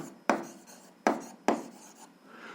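Three distinct pen strokes scratching across paper while a math solution is written down, close and crisp with short pauses between, followed by a fainter scribble, no voices.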